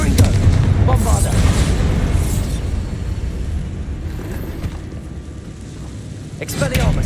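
Explosive spells going off in Hogwarts Legacy, deep booming blasts and rumbling bursts with a loud impact near the start, a fading roar and a fresh pop at the end, with a voice speaking over the fight.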